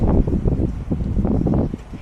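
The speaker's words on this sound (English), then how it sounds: "You hear that wind?" Wind buffeting an Insta360 camera's microphone outdoors, loud, close, uneven low-pitched rumbling gusts throughout.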